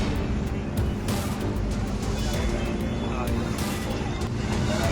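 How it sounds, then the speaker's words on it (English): A Mumbai Navy speedboat runs a new engine on the water with a steady, continuous roar, mixed with rushing wind buffeting the microphone. "The small boat you're seeing is a Mumbai Navy speedboat testing a new engine."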